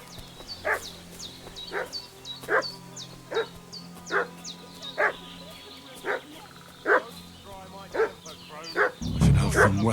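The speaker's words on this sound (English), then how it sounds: "What's that dog making such a fuss about?" A dog in the Kingdom Come Deliverance 2 game barks again and again at a steady pace, with a whiny yelp between barks, fairly near, and a sudden low thump and rustle at the very end.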